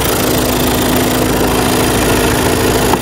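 A 2021 Skoda Octavia A8 with a new 2.0-litre engine idles nearby, a steady, even hum with a constant low drone and no voices.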